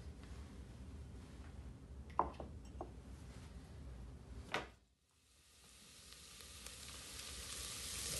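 Sliced shallots frying in two tablespoons of oil for a fessenjoon sauce, a soft steady sizzle with a few sharp crackles and pops, cutting out briefly and then gradually returning.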